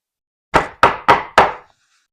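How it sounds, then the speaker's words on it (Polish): A castle door in a Toca Boca video game is knocked on four times in quick succession, each knock loud, hollow and wooden, with silence before and after. "A któż to puka do drzwi zamku?"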